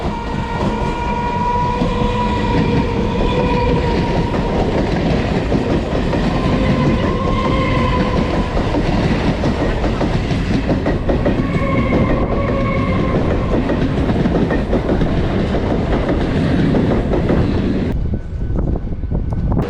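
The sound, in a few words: moving train on Chennai suburban railway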